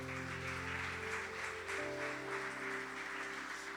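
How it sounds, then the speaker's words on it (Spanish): A church congregation claps steadily at a Spanish-language service, the applause blending under sustained keyboard or organ chords that shift partway through. "Dele un fuerte aplauso al Señor."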